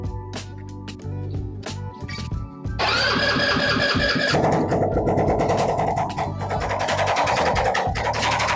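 Scooter engine without an exhaust, partway through an engine rebuild with a troublesome throttle, runs loud and close, then revs sharply and stays at a high, buzzing roar with uneven throttle changes.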